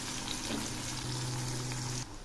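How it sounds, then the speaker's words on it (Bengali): Chopped onions fry lightly in oil with cardamom and garam masala for mutton curry, giving a steady close hiss and soft bubbling that stays even before dropping slightly near the end, with no talking. "এখন আমি এই পেঁয়াজগুলো একটু হালকা করে ভেজে নেব।"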